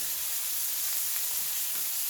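A burger patty sizzles in a pan, a steady, close frying hiss with no pauses and no talking.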